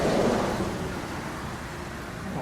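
Steady heavy rain pours outdoors with a broad rushing roar and a low rumble like distant thunder, continuous and fairly loud throughout.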